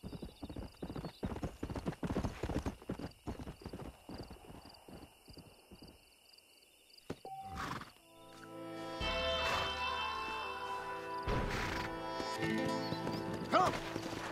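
Horse hooves clip-clop at a brisk, regular trot in Red Dead Redemption, followed by a whinny and a short pause, then the ride resumes under a swell of background music and game sounds.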